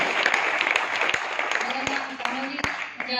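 Continuous crowd applause from a seminar audience in Jind, a dense steady wash of many hands clapping with a few sharper nearby claps standing out, lasting the whole stretch.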